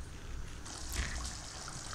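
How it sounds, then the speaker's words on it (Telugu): Fish curry gravy boils in a pot with a soft, steady bubbling simmer, close and quiet, no talking. "చూడండి బాగా మరుగుతుంది."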